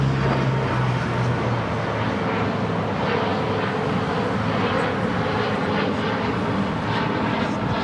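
A jet airliner takes off from runway 25 right at LAX, its engines a loud, steady broadband roar throughout, with a low tone fading early on.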